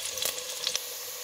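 Hard potatoes fry in a pan with a steady soft sizzle and a few small stirring clicks, brief and close, with no voices.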